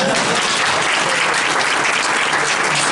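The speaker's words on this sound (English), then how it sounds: "can you please give yourself a round of applause?" Audience at a survey research reveal event gives a dense, loud round of applause, steady and unbroken for the full few seconds.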